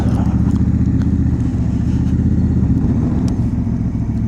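A 2025 Honda Africa Twin DCT motorcycle pulls away smoothly, its engine a loud, steady, close rumble that holds under light wind noise throughout, with no talk.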